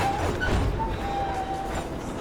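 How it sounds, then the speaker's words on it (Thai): Steady rumble and rattle of a train rolling by in GTA V, with faint high squeals over the continuous low clatter, fairly close and even in level. "เดี๋ยวขึ้นรถไฟกัน"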